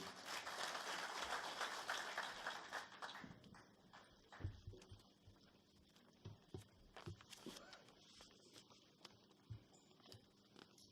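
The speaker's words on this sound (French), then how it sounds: "je vous demande de bien vouloir applaudir Monsieur le ministre de la Jeunesse et des Sports" Applause for the Minister of Youth and Sports at the opening meeting of the African Youth Games organising committee. A dense crowd claps loudly for about four seconds, then the clapping thins into scattered, fading claps.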